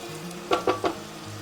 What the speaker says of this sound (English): once your butter has melted, go ahead and add in your onions